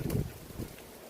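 Hurricane Milton's outer bands push a short, loud gust of wind that roars across the microphone, swelling and easing in a second or so with a rushing, blustery quality.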